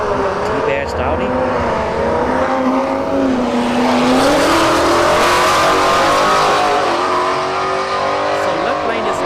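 A loud S550 Mustang and a T-badged Audi launch down a drag strip in a street-heat race, engines roaring and rising in pitch through the gears, with a commentator talking over the noise.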